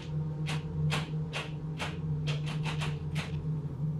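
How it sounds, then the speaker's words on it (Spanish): A door rattles as someone tries to open it: a series of dry knocking and scraping bursts, some spaced and some in quick succession, over a steady low hum. "Sonó entonces la puerta."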